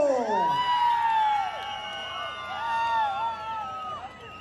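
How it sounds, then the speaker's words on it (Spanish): A crowd cheers and whoops at a jaripeo during a village fiesta, with shrill rising and falling whistle-like calls over a steady hubbub that swells and fades for several seconds. "¡Aplauso para Alejandro!"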